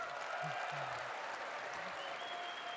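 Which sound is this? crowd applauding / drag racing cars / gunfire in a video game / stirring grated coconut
crowd applauding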